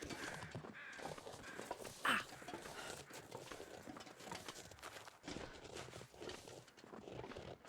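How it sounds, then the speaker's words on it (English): Crows flying overhead in the video game The Long Dark caw in a brief burst, heard amid steady wind and crunching footsteps outdoors, with no talk. "Here are crows."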